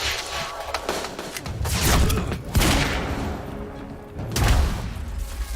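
Shotgun blasts in the video game Quantum Break ring out as several loud, booming shots spaced a couple of seconds apart, each with a sharp crack and a rumbling tail amid combat clatter.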